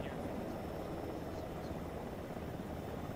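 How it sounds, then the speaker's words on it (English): Helicopter in Arma 3 flying overhead as a steady, faint rotor drone with a broad, continuous wash of noise throughout. "Helicopter."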